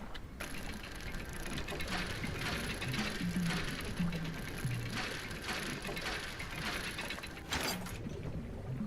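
Mechanical ratcheting and grinding of a winch hauling up salvage in the fishing video game Dredge, a steady clattering whir running for several seconds at even loudness with no voices over it.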